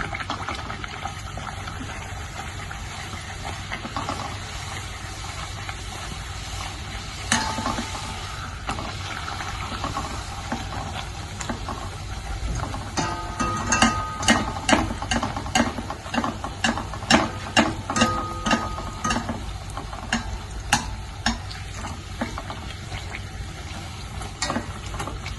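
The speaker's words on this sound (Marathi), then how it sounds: "लो फ्लेमवर छान प्रकारे तळून घेऊयात लालसर होईपर्यंत।" Spiced puris deep-fry in hot oil on a low flame with a continuous bubbling sizzle. Sharper crackling pops cluster in the middle, and the frying carries on steadily with no talk.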